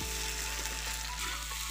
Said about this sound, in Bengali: একদম মাংসের মতো কষে নিচ্ছি শামুকের মাংসটাকে আলু এবং মশলার সঙ্গে